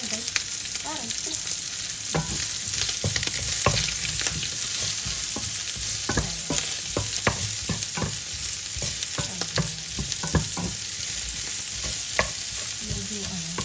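Onion and garlic stir-fry in a pan with little oil, a steady close sizzle broken by frequent sharp scraping and clinking of a spatula stirring throughout.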